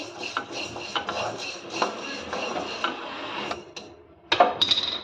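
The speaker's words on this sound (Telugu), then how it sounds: "వీటిని కూడా మనం బాగా ఇలా దోరగా వేయించుకోవాలి" Urad dal roasting in a dry pan, stirred with a utensil that scrapes and clinks against the metal in repeated strokes, close and fairly loud, ending in a sharper clatter, with no talk.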